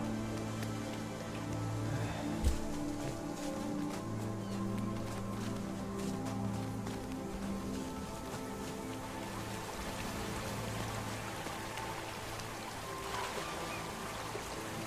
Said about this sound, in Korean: 물소리 좀